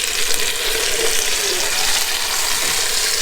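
Chicken fries steadily in a pot for a Chinese pot roast, a loud continuous close sizzle with faint stirring and shifting as the pieces are flipped.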